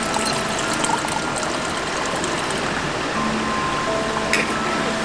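A loud mountain stream rushes right beside a summer valley campsite, a constant close wash of water with faint scattered clicks and no voices.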